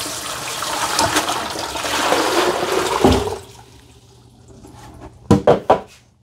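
Water poured out of the clean water tank of a Eufy X10 robot vacuum and mop, a steady rushing gush for about three seconds that tapers off, followed by a few short splashy bursts near the end.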